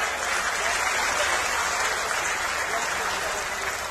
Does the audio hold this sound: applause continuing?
yes